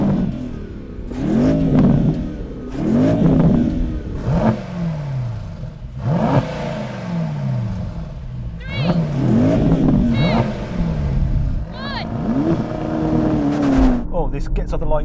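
A Porsche Panamera Turismo and a Mercedes-AMG E63 S launch in a drag race, engines revving hard with repeated rising gear-change sweeps, loud and close under excited commentary.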